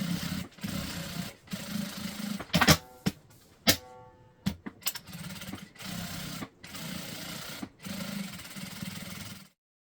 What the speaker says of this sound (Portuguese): bora para a máquina passar uma costura aqui e aqui também